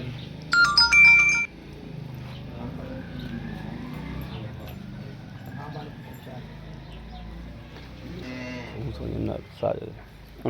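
Cholistani Friesian cross cows mooing on a Pakistani farm, low bellows rising near the end, while someone talks throughout and a phone ringtone sounds briefly at the start.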